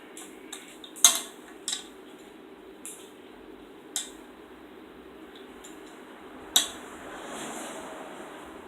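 A spoon stirs rice with peanuts and cranberries in a pot, giving a few sparse, light clinks and scrapes against the metal over a steady low hiss.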